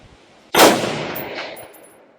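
A single loud shot from an Aero Precision M5 .308 AR-10 rifle at an outdoor range, a sharp crack with the ringing clang of steel being hit, decaying over about a second and a half, with no talking.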